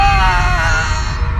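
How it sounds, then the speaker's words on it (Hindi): A terrible, painful scream from a horror story rings out as a single loud, drawn-out wail over a heavy low rumble, fading slightly toward the end. "उसे एक भयानक दर्दनाक चीख सुनाई दी"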